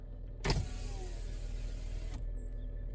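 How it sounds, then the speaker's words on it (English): A car's power window motor runs for about a second and a half as the window rolls halfway down, a steady whirring hum between a clunk at the start and a thump as it stops, alone with no talk. "I roll my window halfway down."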